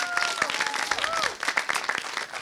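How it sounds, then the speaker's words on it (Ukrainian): A comedy club crowd claps for a rock musician during an improv stand-up set, a busy patter of applause at moderate loudness with a few voices calling out over it. "дайте оплески рок-музиканту."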